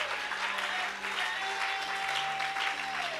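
A congregation at a French-language church sermon claps and cheers steadily for about three seconds, a dense wash of applause with a sustained tone running beneath it.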